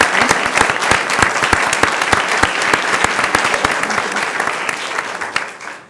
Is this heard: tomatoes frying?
no